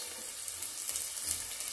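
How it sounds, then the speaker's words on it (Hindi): Finely chopped onions frying in a pan with browned garlic give a steady, soft hiss and sizzle, close and continuous, with no talk. "अब हम इसमें अपना प्याज डालेंगे। जो प्याज मैंने बहुत ही छोटे छोटे से काट के रखे हुए हैं"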